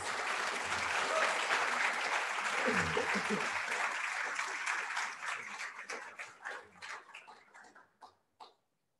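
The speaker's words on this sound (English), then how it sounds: "Let's give them a round of applause." An audience at a student debate on abortion gives a sustained round of applause that gradually breaks into scattered individual claps and stops. Voices murmur and cheer faintly underneath.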